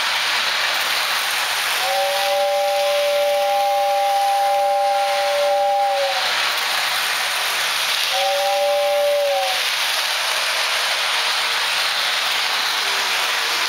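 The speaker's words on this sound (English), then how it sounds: "Want the whistle to go?" Toy train steam whistle sounding in two blasts, a long one of about four seconds and then a shorter one, over a constant loud steam hiss, close by and with no talking.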